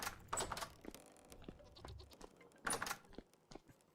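Goats bleat in the survival game Vintage Story, two or three short quavering bleats heard quietly over faint background game sounds.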